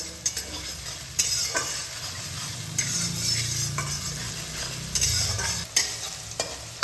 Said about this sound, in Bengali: রসুনটাকেও এর মধ্যে ভালোভাবে মিশিয়ে নিতে হবে